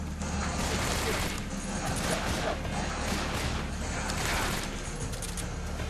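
Rapid bursts of gunfire ring out in a Metal Gear Solid 3 jungle firefight, dense and continuous crackling shots and clatter throughout, with a player's voice briefly reacting underneath.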